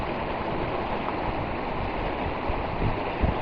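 The flooded Moose Jaw River in Saskatchewan in May, rushing in a steady broadband roar of moving water, loud and continuous with no voices over it.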